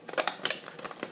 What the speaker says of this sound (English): I used the ProvoCraft, the deckled edge scissors, and I just cut them out.